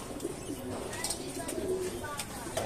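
Birds coo and chirp in the background, with people talking faintly over a steady outdoor murmur.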